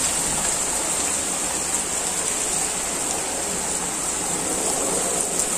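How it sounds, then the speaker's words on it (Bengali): Heavy rain pours down in a dense, even roar, a steady wash of falling water that holds for several seconds with no break and no voices. "দেখো বৃষ্টি কিভাবে নামছে আজকে।"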